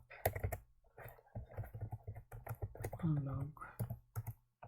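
Fingers tap out JavaScript code on a computer keyboard in quick, light clicks, heard close but quiet beneath a person speaking throughout.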